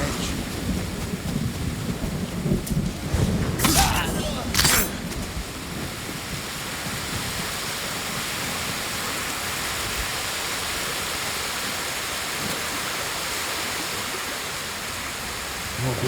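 Waterfall in the video game Ghost of Tsushima, a steady, loud rush of falling water across the whole stretch, with a few brief sharper splashes or bursts near the start.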